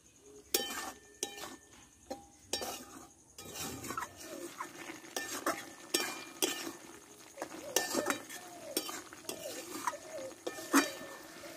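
A spoon or spatula stirring a soft vegetarian papaya and potato curry in a pan, giving sharp metallic clinks and scrapes in an irregular rhythm, near and fairly quiet.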